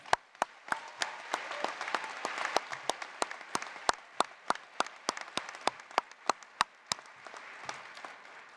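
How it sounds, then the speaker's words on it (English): Commencement audience applauding faculty and staff at a winter graduation ceremony, a steady wash of many hands with sharp individual claps standing out close by, sustained throughout without talk. "I ask you to join me in a round of applause for our faculty and staff."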